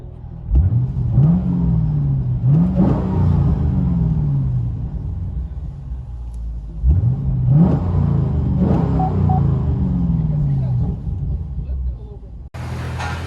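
A 2014 Chevy Camaro SS 6.2L LS3 V8 with a Borla ATAK cat-back dual exhaust revs hard several times from inside the car, deep rumbling bursts rising and falling, loud and close, with a steady idle between.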